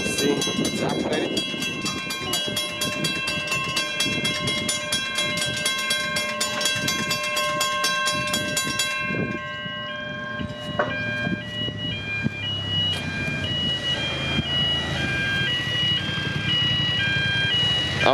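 Level crossing at Blackheath in the Blue Mountains, New South Wales, with warning bells ringing in a steady rapid pattern that stop midway, while a train approaches and rumbles past nearby with a horn blast.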